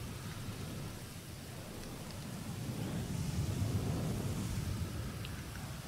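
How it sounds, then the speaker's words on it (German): Heavy rain pours in GTA, a dense, even hiss of downpour with a deep rumbling undertone, steady and loud throughout with no talking. "Hier regnet es ja gerade wie aus Eimern."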